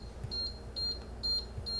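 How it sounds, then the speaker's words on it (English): An Instant Vortex Plus air fryer sounds four short, evenly spaced high electronic beeps, fairly faint against a low background hum. "I went online looking for how to disable all these beeping noises"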